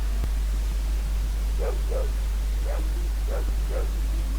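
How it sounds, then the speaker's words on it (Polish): Dog barking five times in short separate yaps as ambient sound in a Fallout 2 remake game, moderately near over a steady low hum and hiss. "Ok, właśnie piesek zaszczekał."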